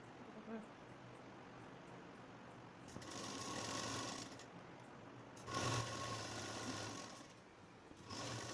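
A sewing machine stitches a designer puff sleeve in two runs of steady mechanical whirring, starting and stopping with quiet gaps between, up close and fairly loud.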